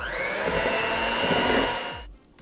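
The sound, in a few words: electric mixer mixing lemon juice and powdered sugar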